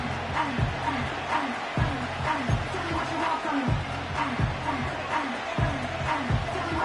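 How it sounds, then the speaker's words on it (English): A packed football stadium crowd roars steadily in the final 90 seconds of a Chiefs game on third and 10, a dense, continuous wall of noise that swells and churns throughout. "this crowd is making an impact right now"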